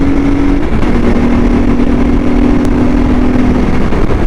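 A CSC RX4 motorcycle engine runs close by in a loud, steady drone with a low hum throughout, no voices over it.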